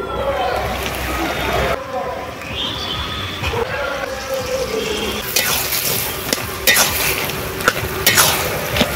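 Water poured onto a frying paste of ground mustard, ginger and cumin for a bitter gime-greens curry sets off a hissing sizzle with stirring and bubbling under steady talk.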